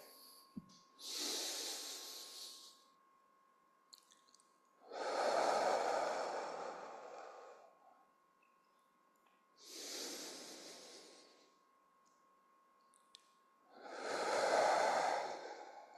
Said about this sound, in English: We'll get a good 5 to 10 nice slow breaths.